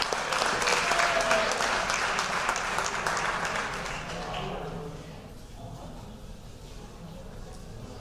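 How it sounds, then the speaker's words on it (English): Audience applause at a high school fall athletic banquet honoring the varsity football team, loud sustained clapping from a large crowd that fades to a quieter room murmur in the last few seconds. "Let's give them a round of applause."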